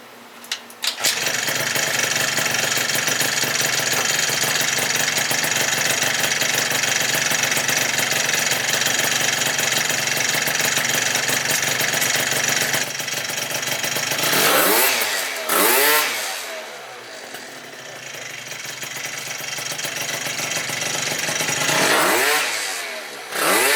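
A Yamaha Zuma scooter with a modified intake runs close up at a loud, steady buzzing idle, then revs up sharply twice with rising and falling engine whines.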